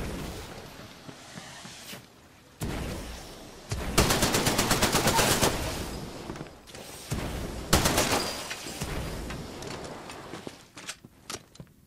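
Rapid automatic gunfire from a weapon in Titanfall 2, sounding in several sustained loud bursts with short pauses between them, and quieter single shots near the end.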